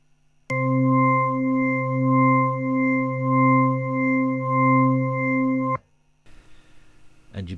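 Combined drawbar tones from a Hammond B3 tonewheel organ simulator, a steady electronic organ chord held for about five seconds with a gentle pulsing swell, then cut off abruptly and followed by faint room noise.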